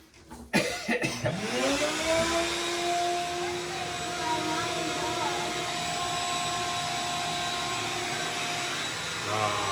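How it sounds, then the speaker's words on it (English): A vacuum cleaner starts up with a few bumps and clatters, then runs as a loud, steady whining roar while sucking up smoldering sawdust aboard a boat, its motor pitch settling and holding close by. "I decided to use the same vacuum to suck up this mess before putting all the lids back on"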